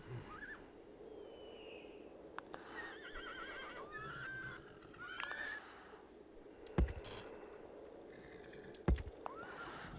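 Cavalry horses in the Rome: Total War video game, heard as several whinnies and neighs over a low battle ambience, with two sharp impacts near the end.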